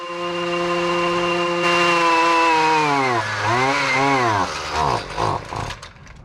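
A weed whacker's small two-stroke engine runs close and loud to burn off the last fuel in its lines and carburetor, holding a steady high whine before revving up and down in wavering surges as it sputters toward stalling.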